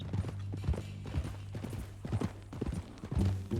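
Horse hooves clip-clop in Red Dead Redemption 2 at a steady walking rhythm, close and distinct, with a low hum underneath.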